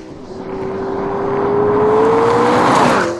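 A McLaren supercar accelerates hard from a standstill, its engine note climbing steadily in pitch and growing louder over a few seconds, close and alone without talk.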